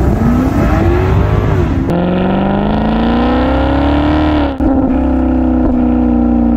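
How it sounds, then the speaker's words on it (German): A Maserati GranCabrio MC Stradale, with a Ferrari-built engine, 460 PS and a flap exhaust, revs loudly and close by. The engine note rises smoothly, drops sharply at each of two gear changes, and pulls on again. "Der unter anderem natürlich von dem Ferrari Motor profitiert, aber von dem Klappenauspuff"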